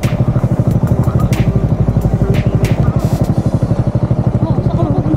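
A motorcycle rides along a rural road in Real, Quezon, its engine putting out a loud, rapid, steady pulsing throb close by, with wind buffeting over it.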